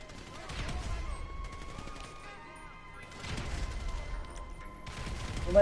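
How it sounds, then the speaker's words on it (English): Gunfire during a shootout in GTA V comes in three muffled, rattling bursts at moderate distance, separated by quieter gaps, with a low rumbling background and voices partly audible. "they already started shooting"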